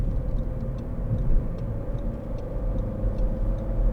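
A 2012 SEAT Ibiza 1.4 Sportrider cruises down a motorway, with a steady, close low drone of engine and road noise filling the cabin and no pauses.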